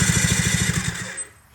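A 1990 Yamaha Waverunner jet ski engine cranking over on a jump box, a close, loud rhythmic chug of rapid even pulses that slows and fades after about a second.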